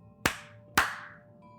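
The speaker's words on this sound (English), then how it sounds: "clap your hands." Two sharp hand claps about half a second apart, close and clear, in a quiet room during a spoken scary-story telling.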